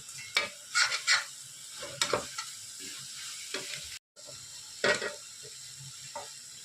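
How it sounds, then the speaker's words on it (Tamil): Quiet scraping strokes of a spoon stirring food with chili powder in a pan, irregular and close, over a faint steady sizzle. "எல்லாத்தையும் நல்லா கிளறி கொடுக்குறேங்க"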